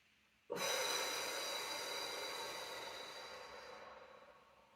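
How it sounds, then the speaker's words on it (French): A long, steady exhale blown out through the mouth during a morning sophrology breathing exercise, starting abruptly and fading gradually over about four seconds, close and soft, with no talk over it. "Soufflez par la bouche."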